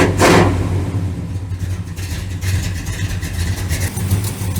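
A diesel-swapped Geo Tracker engine idles steadily after a cold start, with a low, even mechanical rumble running throughout and a brief louder burst of revving at the very start.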